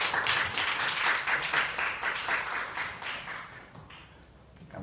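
A church congregation claps together in steady, dense applause for an arriving pastor at a Sunday revival service. The clapping holds at moderate volume, then thins and fades toward the end.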